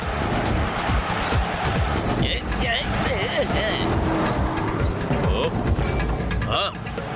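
A cartoon car races away with engine roar and squealing tires, loud and continuous, while characters shout over the noise.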